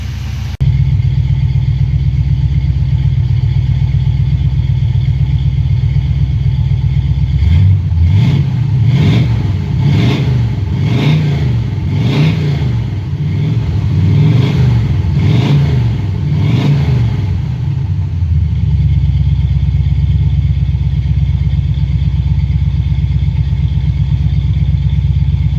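A 1979 Chevy Impala engine, long abandoned, idles steadily with a low rumble, then rises through a run of rhythmic revs for about ten seconds before settling back to a constant idle.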